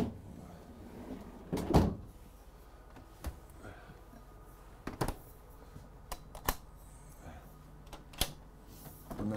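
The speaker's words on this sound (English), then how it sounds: "And then my ice maker is down below." The ice maker tray in a 2021 Renegade Verona 36VSB motorhome is pulled open and pushed shut, with one loud clunk followed by several sharper knocks and rattles, close by in a quiet interior.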